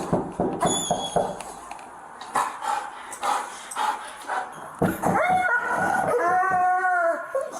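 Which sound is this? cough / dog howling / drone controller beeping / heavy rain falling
dog howling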